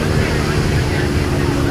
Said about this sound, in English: that biplane moving through the air and the feel of flight